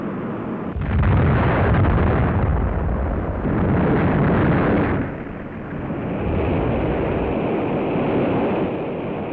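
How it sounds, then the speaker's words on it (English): Atlas-Centaur rocket explosion heard in an old newsreel, a prolonged, loud roaring rumble that swells and surges for several seconds, dips briefly, and then continues without speech. "The immediate cause of the explosion is not known"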